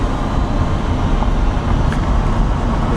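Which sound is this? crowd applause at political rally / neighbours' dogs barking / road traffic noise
road traffic noise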